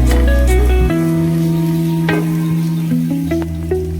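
Turmeric and coriander powder being mixed in a hot pan for a squid fry, a light sizzle with a few spoon scrapes close by over a steady humming tone in the background.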